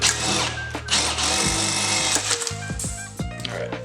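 Power drill fitted with a carbide bit boring through metal, a loud, close, continuous whine that dips in pitch as the bit bites and slows, then revs back up.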